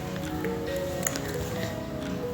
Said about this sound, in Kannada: ಇವಾಗ ಸ್ವಲ್ಪನೇ ನೀರು ಹಾಕ್ಕೊಂಡು ಈ ರೀತಿ ಹಿಟ್ಟು ನಾದ್ಕೋಬೇಕು.